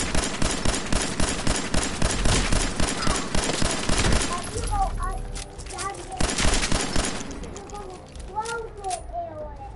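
Rapid bursts of pistol and shotgun gunfire from raider combat in Fallout 4, loud repeated cracks in dense volleys for about four seconds, then scattered shots amid game effects and faint voices.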